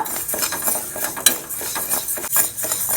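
Moong dal dry roasting in a pan over medium flame, stirred with a metal spoon: repeated scraping and clinking of utensil against the pan, fairly close and steady, with no talking.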